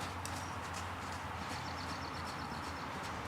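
A horse gallops during a riding lesson in an arena, its hoofbeats a faint, rhythmic thudding set well back within steady, broad background noise.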